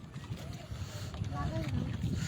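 Small boat moving across Niladri Lake during the rainy season, a steady low rumble of motor and water wash with wind buffeting the microphone, heard close and continuous under people talking.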